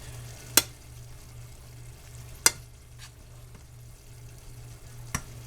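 Squash pasta stirred in a pan, quiet scraping with a faint sizzle under a low hum, punctuated by three sharp clacks of the utensil against the pan, spaced apart.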